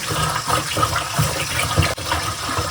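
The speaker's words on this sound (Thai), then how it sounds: "ล้างข้าวเหนียว ให้ สะอาดนะคะ" Steady sloshing and rushing water, close and fairly loud, as sticky rice is swished and rinsed in a bowl.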